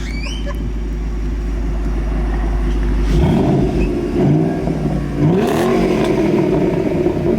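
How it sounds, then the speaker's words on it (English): Stock-exhaust Ford Shelby GT500 engine idling low, then revved several times, loud and close outdoors, with throaty rises and falls. "Give us a little rev there, Austin."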